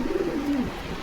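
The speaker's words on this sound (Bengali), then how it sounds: "রানিং মাস্টার পেয়ার কবুতর দেখেন।" Pigeons from a breeding pair offered for sale at a Bogura pigeon house give a soft, low, rolling coo that slides downward, with no talk.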